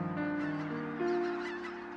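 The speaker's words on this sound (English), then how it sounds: "these water birds are migrating northward from wintering grounds on the Gulf Coast, Mexico, and Central America" Migrating water birds heading north from wintering grounds in the Rainwater Basins, a flock giving overlapping honking, goose-like calls, close and steady throughout.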